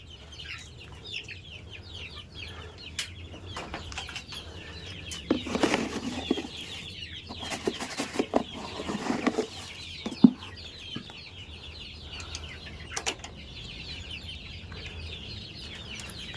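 Young free-range village chickens in a backyard coop, with scattered clucks, wing flaps and short, thin attempts at crowing from roosters still learning, plus a sharp louder squawk near the middle over a low background hum.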